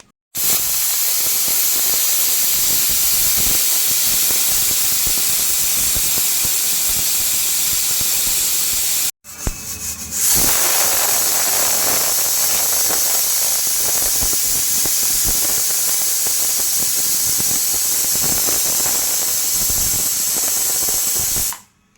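A pressure cooker on the stove vents steam in a loud, steady hiss that runs for about nine seconds, breaks off briefly, then resumes just as strongly for another twelve, close by and with no voices.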